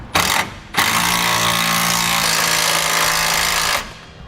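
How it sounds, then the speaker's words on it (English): Power tool whirring steadily as it drives a self-tapping bolt into the frame of a 2017 Chevrolet truck while an air helper spring bracket is mounted; a short burst, a brief pause, then about three seconds of continuous close, loud motor whine that stops abruptly. "we'll now use the self-tapping bolt to secure the bracket to the frame."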